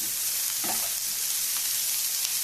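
Onions with spices, ginger and cashews roasting in a pan, giving a steady, loud hissing sizzle that fills the whole stretch, with a few faint utensil scrapes and no talking.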